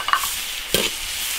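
Green and red peppers with ginger and garlic sizzle in a hot iron wok of bean paste, a close crackle with a quick scrape of stirring partway through.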